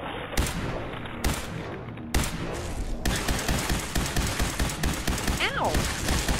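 Rapid gunfire from Fallout 4 during a fight with broodmothers, loud bursts at the start then a dense run of overlapping shots and impacts, with a squeaky creature cry near the end.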